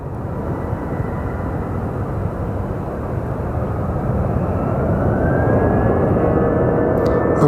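At Phoenix Sky Harbor Airport, an aircraft taxis past with a loud, steady engine rumble that grows slightly louder as a thin turbine whine rises in the later seconds, with no talk.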